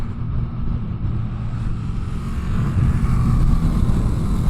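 A motorcycle, either a Yamaha MT-09 or a Ducati Streetfighter V2, rides down a road. A steady low engine rumble with wind noise swells slightly louder toward the end, close to the rider and with no talk.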